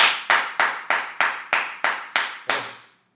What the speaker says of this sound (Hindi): उस विरोध में आज हम ताली बजाकर आपका विरोध करेंगे